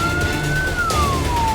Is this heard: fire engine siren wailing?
yes